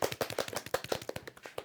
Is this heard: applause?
yes